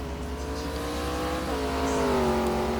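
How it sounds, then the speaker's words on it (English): A Lamborghini race car in a GT1 racing video game at Jerez, its engine a loud steady drone whose pitch dips and then climbs again, heard alone. "And we see that one of the Lamborghinis came into the pits."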